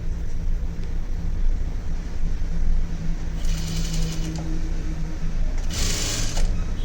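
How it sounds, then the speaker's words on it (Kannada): Sewing machine stitching a design blouse runs with a steady low mechanical hum, joined by two short bursts of brighter, faster whirring as the stitching speeds up; no speech is heard. "ಈ ರೀತಿ ನೀಟಾಗಿ ಸ್ಟಿಚ್ ಹಾಕ್ಕೊಂಬಂದ್ಬಿಡಿ"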